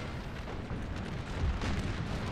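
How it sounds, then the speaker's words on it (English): Continuous rumbling battlefield din of massed artillery fire in Napoleon: Total War, a dense, steady roar of overlapping distant booms that swells slightly in the second half, with no talk. "Keep up with the artillery fire."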